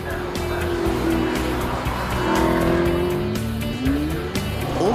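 An Alfa Romeo 8C Spider convertible with a 4.7-litre V8 drives at the Goodwood Festival of Speed, its engine revving up through gears with a steady loud roar and a rising whine amid crowd ambience.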